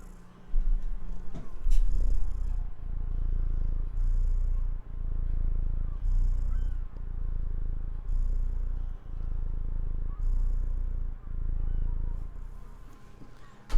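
A house cat purrs close by, a low steady rumble that pulses in regular breaths over several seconds, loud and alone.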